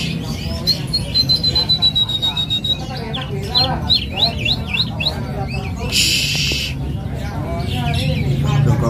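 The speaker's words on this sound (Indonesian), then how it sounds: "Burung udah mapan, di atas bunyi, di bawah bunyi." Caged songbirds for sale at a bird kiosk give repeated chirps, squawks and whistled calls close by, with a brief burst of harsh noise midway and a faint background murmur.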